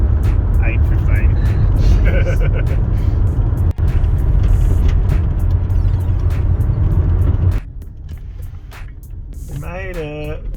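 Toyota Camry limping along a road at reduced highway speed toward a service station: a loud, steady road and engine roar from inside the cabin that drops in level near the end, with people talking over it.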